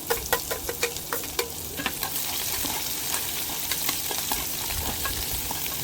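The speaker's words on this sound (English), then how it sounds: "so now we can add in our onions" Onions frying with browned garlic in a pan for masala brinjal, a steady close sizzle opening with a quick run of sharp spatula scrapes and taps, then continuous frying alone.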